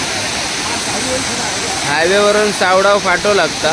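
Savdav waterfall in the Konkan, off the Mumbai–Goa highway near Nandgaon, roars as a constant broad rush of falling water, with someone talking over it in the second half.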